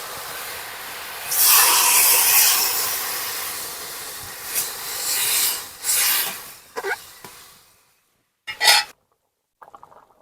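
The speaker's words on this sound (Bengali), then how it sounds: "এবার আমি জল দিয়ে দেবো" Water hits a hot pan of fried green banana and potato, bursting into a loud sizzling hiss that swells, fades, then flares in short sharp spurts before quieting.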